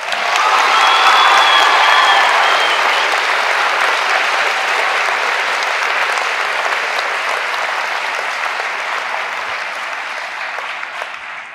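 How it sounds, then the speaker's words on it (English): Graduation crowd applauding the senior class of 2023 at a high school ceremony, with a few cheers early on; sustained, dense clapping that slowly tapers off, with no talk over it. "a big round of applause for the senior class of 2023"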